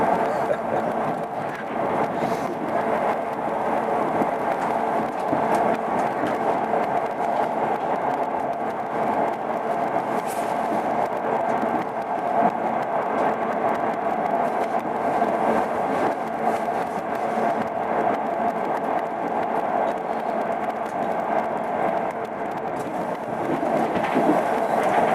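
A steady, loud rumble of a train running on rails approaching North Queensferry in Fife, continuous throughout with faint rhythmic clatter and no pauses.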